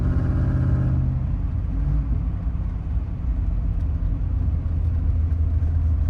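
A 1991 Pontiac Firebird Formula with a 350 V8 rumbles steadily up close, a deep throbbing idle that holds loud and even for the whole stretch with no voices.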